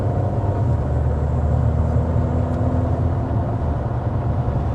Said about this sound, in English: Drew is speeding up to 55 miles an hour to get our official Car Confections sound level reading